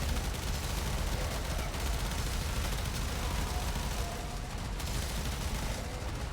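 Constant weapon fire rattles through a Warframe mission, a dense, unbroken barrage of rapid shots and impacts that stays loud and even for the whole stretch with no breaks.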